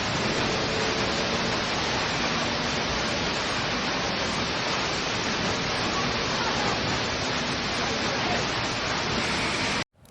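Loud, continuous roar of a waterfall in Bir, Himachal, heard close up as a dense, steady wash of falling water that holds unbroken for about ten seconds before cutting off abruptly.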